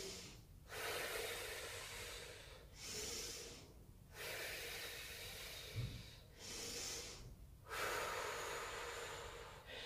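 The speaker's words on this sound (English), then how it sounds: "Breathing out." Slow, deep exhalations in a quiet room during a second-trimester prenatal core workout, several long breaths out separated by short intakes, close and fairly soft, no talking.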